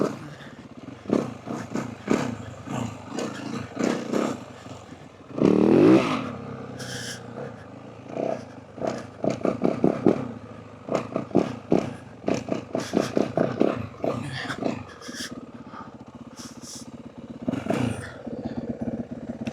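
A Yamaha WR450F 450 dirt bike engine revs and roars in repeated bursts during wheelie attempts, close and loud, with throttle blips rising and falling and brief clattering between pulls.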